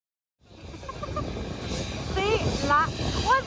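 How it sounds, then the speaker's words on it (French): A helicopter's rotor thrum builds steadily from silence in the Mealy Mountains wilderness, growing louder as it approaches, with a voice speaking over it. "C'est la troisième fois qu'un hélicoptère vient nous voir."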